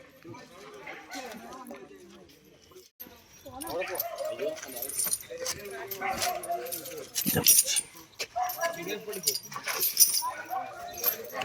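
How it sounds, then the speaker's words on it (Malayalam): A dog barks repeatedly at an elephant during the Kaliyaroad Nercha festival, its yelps mixed with jangling and crowd noise while people talk nearby. "ഈ ആന കണ്ടിട്ടേ അവിടെ പട്ടി കുറേ നേരമായി കുറക്കണം"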